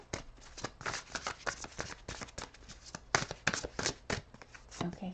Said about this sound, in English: So let me shuffle this deck,